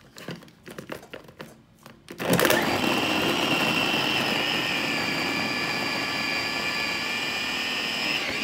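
A blender whirs loudly through cassava and peanut dough, switching on after about two seconds of clattering and rustling, then holding a steady, near, grinding drone to the end.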